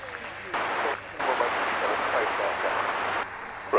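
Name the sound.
crowd clapping in the background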